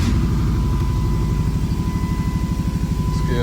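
A Chrysler Sebring engine, its intake manifold freshly cleaned and a sensor fault showing, cranks with a rapid rhythmic chugging pulse and stays loud and close throughout, with no talking.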